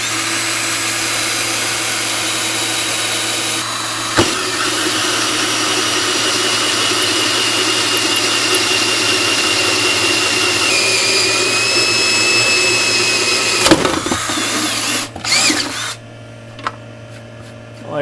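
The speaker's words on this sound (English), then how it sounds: "So if I drill two holes, centered up like that, that should do it." Power drill boring two centered holes for a home-built cupelling oven, a steady loud motor whine running almost the whole time, ending in a couple of sharp knocks and a quieter tail.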